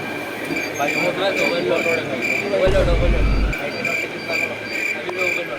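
A railway station in Mumbai carries a steady ambient roar with a low rumble swelling briefly midway and a thin high-pitched whine throughout, while indistinct voices murmur nearby.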